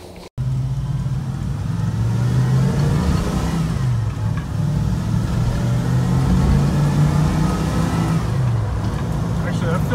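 A carbureted car engine with a freshly tuned Edelbrock AVS2 carburetor hums and revs steadily from inside the cabin on a test drive, a low continuous drone with mild swells.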